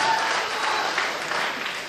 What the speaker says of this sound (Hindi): तालियां भी तो अच्छी आनी चाहिए अगर बहार है